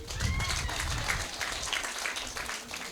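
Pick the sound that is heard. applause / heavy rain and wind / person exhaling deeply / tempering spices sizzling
applause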